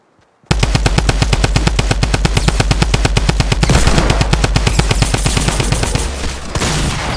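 Rapid automatic gunfire in a video game, a steady stream of sharp bursts that starts abruptly and runs loud and continuous for about seven seconds with no talk.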